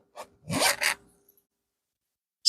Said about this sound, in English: Now I'm going to separate the zipper